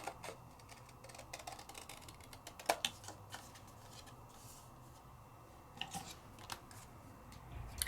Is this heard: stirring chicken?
no